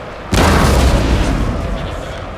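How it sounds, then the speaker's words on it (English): A cannon fires canister shot in the Total War game set in the Thirty Years' War, a single loud boom with a rumbling tail that fades slowly, heard alone. "Are you ready to fire a canister?"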